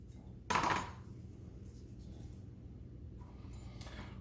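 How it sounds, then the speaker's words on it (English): A knife blade cuts an avocado in half, making a single sharp crunchy burst near the start, then a faint quiet background. "just take your knife blade, cut your avocado in half like this"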